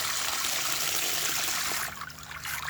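A small pond pump circulates water through a fine gold recovery setup, giving a steady, close rush and trickle of flowing water that holds level before easing slightly near the end.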